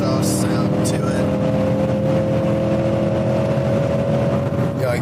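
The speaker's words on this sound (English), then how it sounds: "You can even add the exhaust sound to it." A car engine roars steadily as it revs, loud and close, with the exhaust droning throughout.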